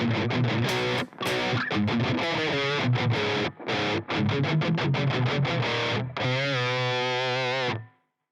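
A distorted electric guitar plays a pre-chorus in standard tuning, with fast, choppy chugged notes broken by brief stops, then a sustained chord that rings out and fades.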